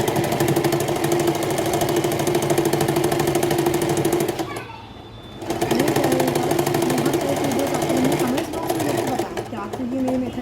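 An electric sewing machine rapidly stitches the outline of a pocket on salwar fabric, a steady close mechanical whirr that pauses briefly midway and then resumes.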